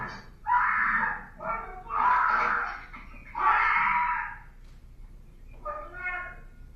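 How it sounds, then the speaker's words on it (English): Screaming from a played recording inside a house during a shooting incident comes in several loud, drawn-out wailing bursts with short gaps between them, sounding shrill and somewhat muffled. "the audio clip you can hear some screaming"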